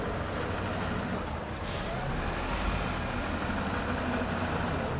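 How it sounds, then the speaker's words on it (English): A truck in the video game Snowrunner idles with a steady low rumble, and a short sharp air-brake hiss bursts out once near the start. "I keep tapping my handbrake by accident."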